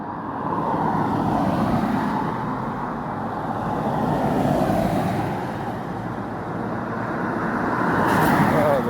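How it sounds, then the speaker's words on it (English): Cars passing on a road beside a fast-flowing drain, a continuous swelling and fading roar of traffic as vehicles go by one after another, fairly close and loud, with no talk. "Just have to wait for some cars."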